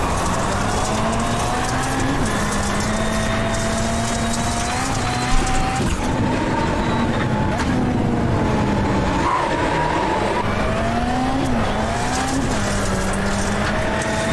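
A VW Beetle Lite in iRacing at Daytona whines through a handbrake hairpin, its engine note rising and falling as the tires skid and squeal in repeated scrubbing bursts, loud and steady with no talking.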